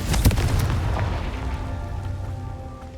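A Confringo fire spell bursts in Hogwarts Legacy with one loud, close boom right at the start, followed by a rumbling, fading roar that lingers for a few seconds.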